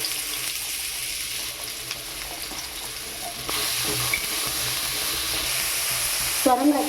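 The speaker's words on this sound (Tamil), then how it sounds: "சொரக்காய் இப்போ நம்மளுக்கு வதங்கிட்டு இருக்கு." Bottle gourd sautés in hot sesame oil with a steady close sizzle and occasional stirring scrapes, the frying growing slightly louder midway, with a brief clatter at the end; no speech.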